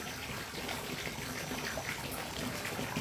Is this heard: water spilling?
yes